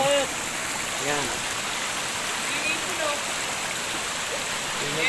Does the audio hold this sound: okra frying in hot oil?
no